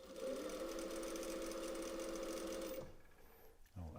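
A needle feed straight-stitch sewing machine hems stretchy knit fabric with a steady, faint humming whir and rhythmic chatter for under three seconds, then stops, followed by brief quiet handling sounds.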